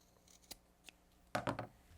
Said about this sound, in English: I am going to trim off the corners from this zipper gusset